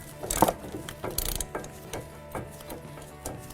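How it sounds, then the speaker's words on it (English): Ratchet working a nut on the front shock of a 2009 Ford Escape, quick clicking ratchet strokes in short bursts, close and fairly loud, with no talking. "You're going to put the ratchet on tighten. That'll keep it from spinning while we're loosening the nut."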